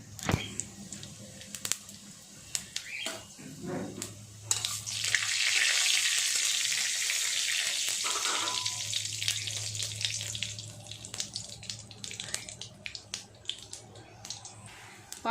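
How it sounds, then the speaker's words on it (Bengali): Panch phoron spices crackle and sizzle in very hot oil in a pan, first in scattered pops, then in a louder steady hiss that eases back into sporadic crackling, close by. "পাঁচফোড়নটা ভাজা হয়ে গেছে।"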